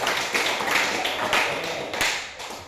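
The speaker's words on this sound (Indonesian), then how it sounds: "berikan aplaus dulu untuk kelompok melatih" Applause for a training group in a school physical education lesson, many hands clapping in a steady, dense patter that swells and fades in waves.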